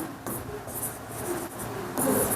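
Pen scratching across paper while a trigonometry problem is worked out, with soft continuous strokes and brief pauses between bursts, close and fairly quiet.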